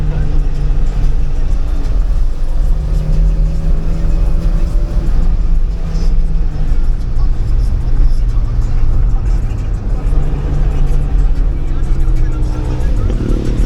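A Porsche 924 engine drones loudly and continuously from inside the cabin, pitch climbing and dropping through gear changes and revs, with a voice talking over it.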